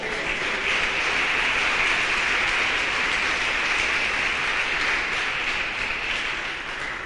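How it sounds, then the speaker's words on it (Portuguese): A church congregation applauds in a dense, continuous wash of clapping that holds steady and loud throughout, with no voices rising above it. "Dê um glória a Deus e aplauda o Senhor em nome de Jesus"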